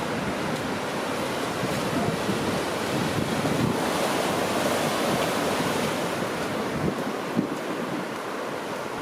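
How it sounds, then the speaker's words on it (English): Ocean surf at a beach in Mazatlan, with one big breaker rolling in; a steady, loud roar of waves and wash with wind buffeting the microphone throughout, and no voices. "The surf doesn't really break right. It's just one big breaker."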